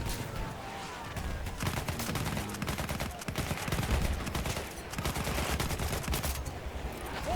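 Rapid automatic gunfire from an MP18 submachine gun in the video game Battlefield 1, with dense bursts of shots repeating throughout against loud, constant battle noise.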